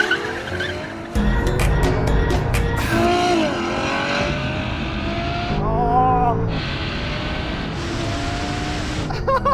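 Sports car drag race launch with traction control off, from a drag race between a Mercedes SLR McLaren, Ferrari GTC4 and Aston Martin DBS: loud engine revving and rising gear pulls, with repeated tire squeal and skidding throughout.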